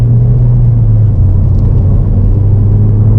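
Ford Fiesta ST engine pulling hard at full throttle, a loud, steady low droning rumble heard from inside the car with a constant hum and no talking.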